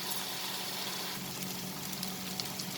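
Spinach and potatoes fry in a pan for an aloo palak dish, giving a steady, quiet sizzle with a faint crackle that stays even from start to finish. No voices are heard.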